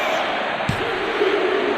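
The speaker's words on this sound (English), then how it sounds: "What a raucous crowd here tonight." Arena crowd at a WWE 2K25 wrestling match, a steady, loud roar of cheering spectators filling the space, with a single sharp impact thud partway through.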